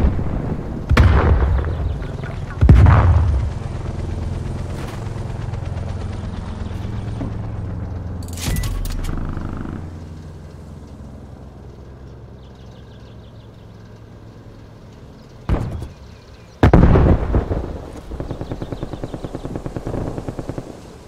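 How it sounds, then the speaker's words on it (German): Enemy sentry turret gunfire in Black Ops Cold War, a series of booming shots and bursts over a low rumbling game soundscape, with several loud impacts spread through the clip and no voices. "Feindliches Geschütz aktiv."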